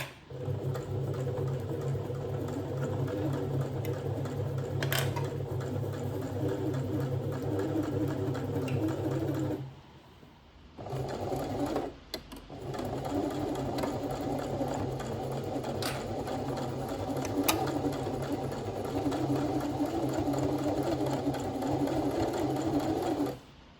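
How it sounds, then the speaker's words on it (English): A sewing machine runs steadily while stitching rows of gathering stitches on dress fabric, giving a close, continuous whirring hum that stops briefly twice partway through and then resumes. "I'm now going to sew 2 rows of gathering stitches"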